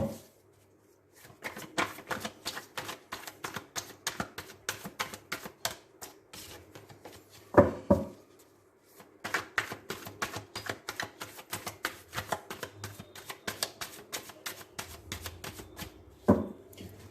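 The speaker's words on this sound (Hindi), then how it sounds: "तो चलिए हम कार्ड शफल करते हैं और देखते हैं कि क्या है आप लोगों का करियर एक दूसरे के साथ।" Tarot cards being shuffled by hand, a rapid series of crisp riffling taps with brief pauses, close and fairly quiet, with no talk over it.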